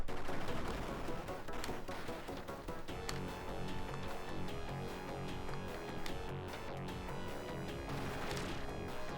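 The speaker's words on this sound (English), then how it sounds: "it's just kids messing around with fireworks." Fireworks go off outside on a busy street, a dense, continuous crackle of rapid bangs like a fusillade with some louder pops, heard from indoors at moderate distance.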